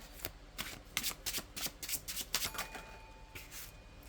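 Tarot cards being shuffled by hand in a series of quick riffling, slapping bursts with brief pauses between them, close and fairly quiet, with no talking.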